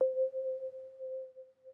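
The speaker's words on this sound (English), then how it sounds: "So, this space sine wave is pretty simple." A synthesized space sine wave with heavy chorus rings as a single steady pure tone, sustained and gently wavering in level, quiet and alone.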